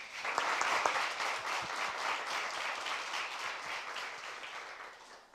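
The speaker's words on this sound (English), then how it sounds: "So, for all of you, an applause that you so well deserve." Sustained applause from a conference audience in a hall at a Latin American healthcare sustainability event, dense clapping that starts loud and gradually thins toward the end, with no talk over it.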